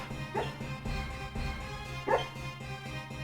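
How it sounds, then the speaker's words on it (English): A sleeping dog lets out soft muffled barks, two short woofs spaced apart, over steady background music. "He's barking real hard in his sleep."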